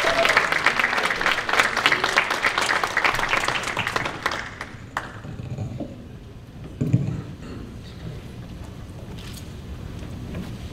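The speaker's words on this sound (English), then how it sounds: "So let's give a round of applause to Jack Liu" A conference audience at a leadership event claps for an award recipient, with dense applause for about four seconds before it quickly thins to scattered claps and a quiet room.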